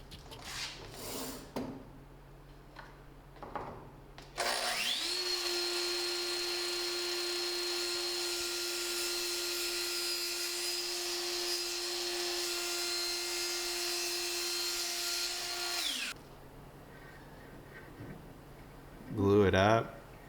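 A power saw cuts a miter in half-inch plywood in one long, loud, steady whine that lasts about eleven seconds and then winds down, with talk before and after the cut.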